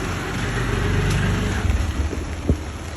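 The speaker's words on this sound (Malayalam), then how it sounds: "നല്ല മഴ." Heavy rain falling at night in Bangalore, a steady broad hiss throughout with a passing low vehicle rumble and a brief thump near the end.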